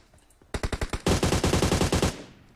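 Automatic gunfire in the PUBG Mobile video game: a burst of about six rapid shots, then a longer, denser volley of roughly a dozen more, loud and close with no talk over it.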